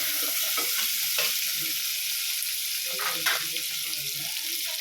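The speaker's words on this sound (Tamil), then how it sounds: "வெங்காயம் சேர்த்து நல்லா வதக்கலாம்." Onions for a tamarind vatha kuzhambu sauté in a pan with a steady, close frying hiss, broken by a few louder scraping stirs.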